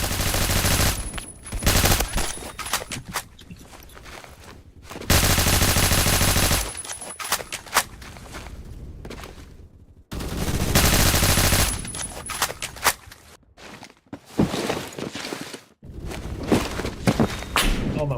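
Loud bursts of automatic gunfire from a weapon in the video game Phantom Forces, several sustained volleys separated by brief gaps, with scattered single shots and footstep-like thuds between them.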